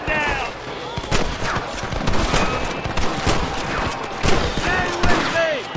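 Gunfire in the video game Red Dead Redemption, with repeated shots cracking in rapid, overlapping bursts amid game noise and shouted voices.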